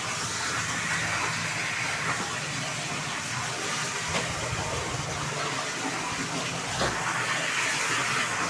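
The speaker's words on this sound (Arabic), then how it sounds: "اشطف اهو، منزل ميه نضيفه" Continuous rushing water runs steadily throughout, a broad even splash with occasional small knocks, close by and without speech.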